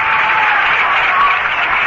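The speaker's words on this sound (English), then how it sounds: "And the crowd really cheers Rusty." Crowd at a Mets–Expos baseball game cheering Rusty Staub as he steps up to bat, a steady broad roar of cheers and applause holding at an even level throughout with no quiet gaps.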